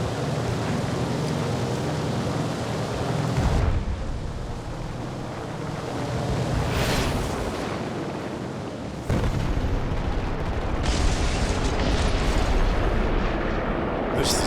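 500-pound bombs exploding on pillboxes in a World War II flight combat game, loud booming blasts over a constant heavy engine roar, with a sharp new detonation partway through.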